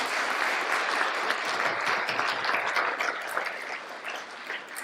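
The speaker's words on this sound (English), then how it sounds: "A big round of applause to each of us who successfully reached this milestone." Audience at a BA and MA graduation ceremony breaking into sustained applause for the graduates, a steady roomful of clapping with scattered individual claps standing out.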